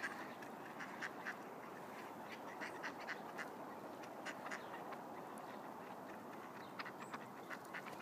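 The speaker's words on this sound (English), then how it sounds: "I started out with about a dozen, and now I've got ducks, ducks, and more ducks." Ducks quacking in a large backyard flock, a continuous overlapping chorus of many quacks at moderate distance, some calls close and sharp, others softer behind.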